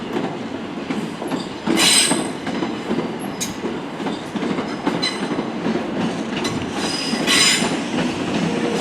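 A Southeastern electric passenger train, unit 375909, pulls out of Ashford International bound for Ramsgate, a steady rumble with wheel clatter and short squeals, fairly close.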